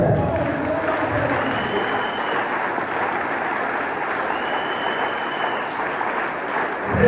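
A church congregation in Congo Brazzaville applauds steadily for several seconds, a dense, even wash of many hands clapping in a large room, with faint voices mixed in.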